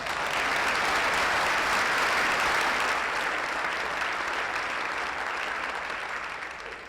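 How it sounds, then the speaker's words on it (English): Sustained applause from a large crowd at a welcome-home celebration for a state champion high school football team, loud and dense, holding steady for several seconds then easing slightly toward the end. "so clap for Matt, even as I did"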